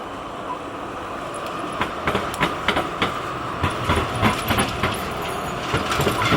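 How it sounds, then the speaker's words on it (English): Melbourne tram on the move, steady rumbling ride noise with repeated rhythmic wheel clicks and rattles across the rail joints, heard from inside the carriage with nobody talking. "That's my B-roll for the tram trip."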